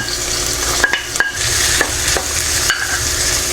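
Four cloves of chopped garlic hit a hot pan of softened onions for Filipino ginisang ampalaya with tuna and egg, giving a steady close sizzle broken by a few sharp stirring scrapes.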